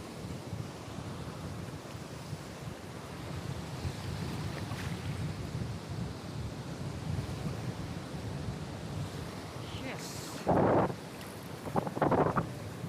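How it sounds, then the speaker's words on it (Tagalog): Steady, heavy headwind buffeting a microphone while light casting for fish in the Philippines, a continuous roar with water-like rushing, broken near the end by a few louder gusts and bumps. "Pasalubong kasi yung hangin guys, kaya hirap tayo sa pagkas."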